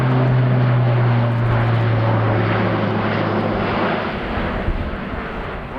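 An Airbus A400M Atlas turboprop military transport roars overhead during a flying display at RIAT 2017, a loud, steady droning propeller rumble that slowly shifts as it passes.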